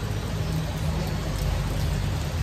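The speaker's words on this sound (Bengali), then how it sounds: "বৃষ্টি পড়ছে" Steady rain pours down during a long motorcycle road trip from Kolkata toward Puri, a dense, even hiss with a low rumble underneath and no voices.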